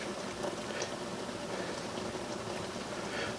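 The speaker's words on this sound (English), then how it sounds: "Now it's on a good boil." Hamburger Helper at a full boil in a pot, a steady bubbling, crackling hiss with soft pops that carries on evenly throughout, close and fairly quiet, with no voices.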